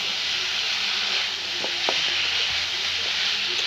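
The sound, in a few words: chicken and spices frying in a pan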